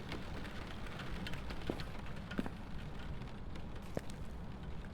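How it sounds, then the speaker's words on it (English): Inside a house in the video game Phasmophobia, rain beats steadily against the windows, a dense, continuous loud patter with a few sharper drop hits and no voices. "How loud the rain is against the windows."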